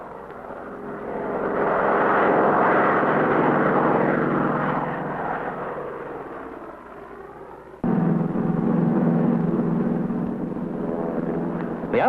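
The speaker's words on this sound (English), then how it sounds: "One large area completed, the plane moves on." A propeller airplane spraying DDT insecticide drones loud and steady as it flies low overhead, fades slightly as it moves away, then swells again when it passes close a second time.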